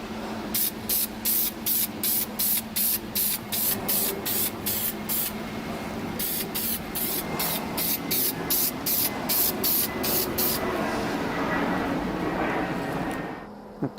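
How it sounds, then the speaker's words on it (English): Self-etching primer sprayed in light coats inside a Datsun 280Z engine bay: rapid series of short, loud spray-can bursts in two runs, with a steady hiss between them and faint room noise beneath. "I got this sprayed down with the self-etching primer"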